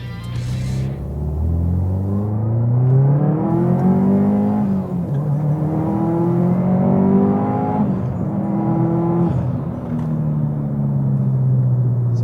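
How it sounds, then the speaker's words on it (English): A tuned Subaru STI pulls at wide open throttle up a freeway on-ramp, its engine note climbing loudly through gears with brief dips at each shift, strong and close throughout. "Do a little wide open throttle stuff here and see how the car goes."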